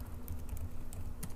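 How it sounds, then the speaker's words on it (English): A few scattered keyboard key clicks tapped slowly and close by, over a low steady hum in the background. "Sorry, I'm typing slow."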